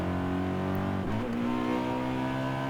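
Steady engine hum of a BMW E92 in a video game, with rich low harmonics, rising briefly as the revs change, continuous and close, heard from the car's interior.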